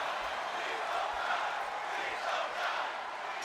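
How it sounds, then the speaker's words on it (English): Crowd chanting in the WWE 2K26 wrestling video game during a Hell in a Cell-style cage match, a steady dense roar of many voices that swells and dips rhythmically throughout, with no clear single words standing out. "The crowd chanting, please don't die."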